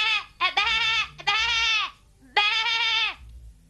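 Cartoon goat bleating: three loud, drawn-out nasal bleats in close succession, the second and third long and wavering, with short gaps between them and no other sound.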